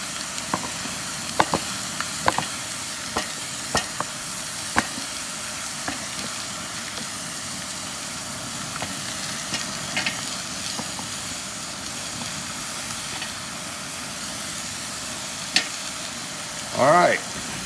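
Pork browning in a large pot holding five gallons of jambalaya gives a steady close sizzle, broken by sharp scrapes and clicks as it is stirred, with one louder clatter near the end.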